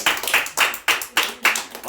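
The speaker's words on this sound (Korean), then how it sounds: "박수 한번 주세요" Church audience clapping close by, a handful of distinct rhythmic claps spaced roughly evenly over a couple of seconds, loud and crisp.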